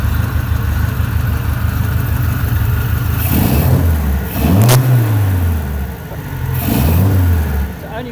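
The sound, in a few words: Volvo P1800 engine running after timing adjustment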